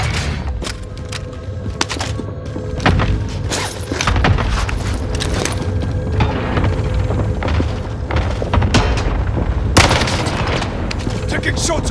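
Gunfire in Call of Duty: Modern Warfare: dense, loud bursts of shots and booming impacts layered over one another without a break, with game voices shouting through the din.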